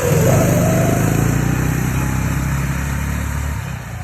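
An Arctic Cat ZR120 youth snowmobile's small engine runs steadily close by, a buzzing high-revving drone that settles slightly lower near the end, with no talking.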